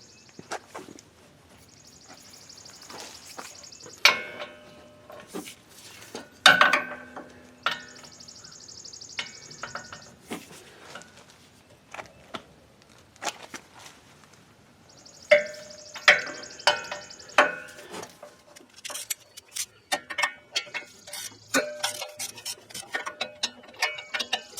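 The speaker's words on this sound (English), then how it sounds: "So I'm going to use a breaker bar and break those loose." A breaker bar ratchets against the 18 mm wheel hub bolts on a 2007 Dodge Durango, with repeated sharp clicking and metallic clanks in irregular bursts, close by and with no talk.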